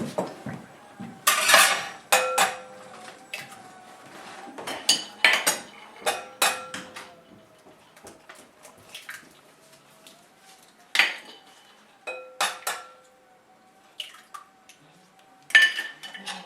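Whisk or fork clattering against a bowl while three eggs are beaten, a loose run of sharp clinks and scrapes in irregular bursts, close and fairly loud, with quiet pauses between the flurries.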